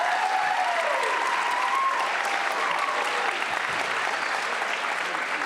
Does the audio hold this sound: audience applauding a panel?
yes